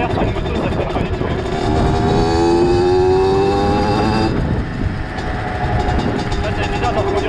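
An original 50cc motorcycle runs loud and close, its small engine buzzing and rising in pitch as it accelerates, with a brief dip before it pulls again.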